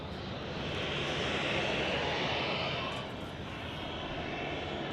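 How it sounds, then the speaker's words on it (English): A military Apache helicopter flies overhead at Manchester Airport, a loud, steady broadband engine and rotor roar that swells slightly in the middle and holds close throughout without talk. "Is that a bloody Apache?"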